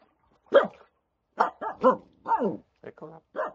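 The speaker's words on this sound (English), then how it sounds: "You don't have to bark at me." A dog barks close by in a string of short, sharp barks and yips separated by brief pauses, with quiet between them, at a harbour where people have been swimming.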